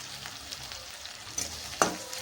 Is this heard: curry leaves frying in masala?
yes